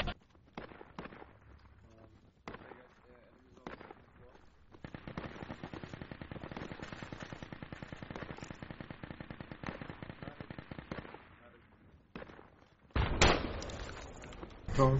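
Bursts of automatic gunfire in the military shooter game Project Reality, sparse shots at first, then a sustained rapid rattle lasting several seconds before a loud closing blast, with a little player chatter around it.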